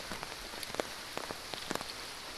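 Rain falling in a flooded village area, a steady soft hiss with scattered sharper drops striking surfaces nearby, no voices.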